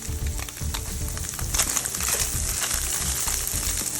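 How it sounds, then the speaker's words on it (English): Ingredients for pad thai sautéing in a pan make a dense, steady sizzle that swells a little partway through, heard up close and continuously with no voices. "I'm going to saute for a little bit."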